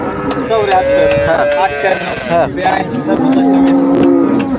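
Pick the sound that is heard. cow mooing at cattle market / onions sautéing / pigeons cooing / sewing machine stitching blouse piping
cow mooing at cattle market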